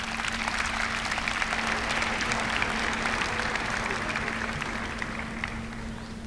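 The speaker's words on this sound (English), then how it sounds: "give their parents, friends, family, teachers a round of applause" Graduation audience giving a steady, sustained round of applause, dense clapping from a large crowd that fills the whole stretch and tapers slightly at the end, with a constant low hum underneath.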